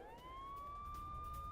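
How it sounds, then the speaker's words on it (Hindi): Air raid sirens sounding over central Israel during an Iranian missile attack, one steady rising and sustained wail that holds loud and continuous throughout, with no voices. "मध्य इजराइल में सायरन की आवाजें आ रही हैं।"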